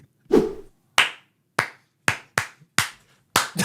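Hands clap seven times alone in a quiet room, sharp and close, at an uneven, slightly quickening pace with gaps between the claps.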